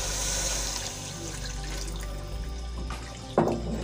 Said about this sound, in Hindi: अब हम इसमें 5 कप पानी डालेंगे।